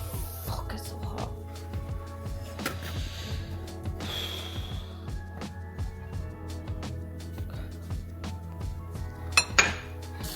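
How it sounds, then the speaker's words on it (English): Dishes, pots and pans clink and clatter during kitchen cleanup, scattered knocks and chinks over a steady low hum, with a couple of sharper clinks near the end. "This is literally me cleaning as I go, you guys. I just washed down all these dishes and I put all of the food away."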